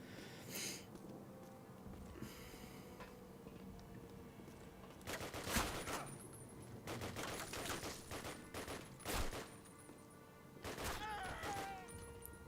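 Bursts of rifle fire from an M44/StG assault rifle in a Call of Duty shooter, several separate volleys spread across the clip, moderately loud over a steady game-ambience background.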